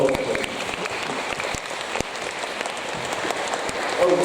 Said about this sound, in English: Can we give reception a big round of applause?